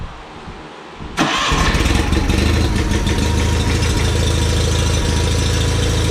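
A 1990 John Deere 318 lawn tractor with a smoking engine and a dirty carburetor cranks and catches after a second of quiet, then runs at a loud, steady, slightly knocking idle close by.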